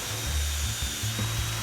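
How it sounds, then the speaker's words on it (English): A power drill drives screws into the metal panels of a Titan Pro bike and garden storage shed, giving two close, steady bursts of low motor whine with a brief pause between them. "Again, drill and screw these together to ensure rigidity."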